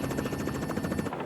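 A helicopter flying in Alaska, with a loud, close, rapid rhythmic beating of rotor blades over a dense engine roar, steady throughout and then cutting off abruptly at the end.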